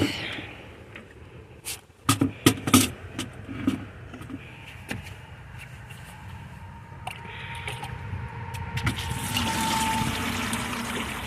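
A bucket of rinse water from a rock tumbler is tipped out, with knocks and clatter first and then a rising, steady splash and trickle of pouring water.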